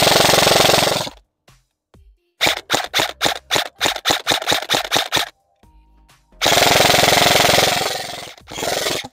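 Airsoft Sig Sauer MCX Virtus fitted with an Avalon gearbox firing, with a long sustained full-auto burst, then a run of rapid single shots, and another extended burst followed by a short one, crisp and close.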